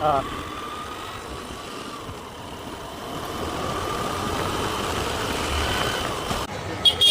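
A motorcycle engine runs steadily during a ride toward a crowded town during Saraswati Puja pandal visits, a continuous mid-level drone with broadband road noise that swells slightly toward the end.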